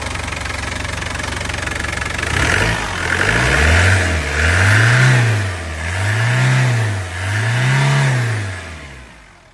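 A Land Rover 90 with a 200tdi diesel engine, running just after a cold start, knocks and clatters steadily close by, then revs up and down four times in a slow rising and falling rhythm.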